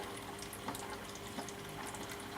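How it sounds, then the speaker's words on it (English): CO2 from a SodaStream bottle bubbles steadily into aquarium tank water, a soft continuous fizzing and trickling with faint periodic pops under a low hum. "There's me CO2 bubbling in."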